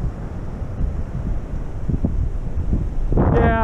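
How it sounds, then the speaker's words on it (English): Strong wind buffets the microphone outdoors on a frozen lake during an ice-fishing outing, a loud continuous rumbling roar with a brief higher whistle near the end. "This wind's getting pretty bad, so. If you guys can even hear me."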